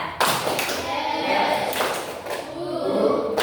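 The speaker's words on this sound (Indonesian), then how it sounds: "Tepuk 2, 1, 3." Students in a classroom clap out a two-one-three rhythm, several sharp group claps in short bursts over a low background of voices.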